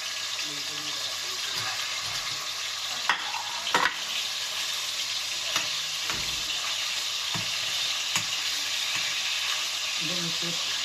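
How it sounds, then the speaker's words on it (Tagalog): Pork, chicken liver and chicken frying in a pan, a steady close sizzle with occasional stirring clinks and scrapes throughout. "Prito po muna natin lahat."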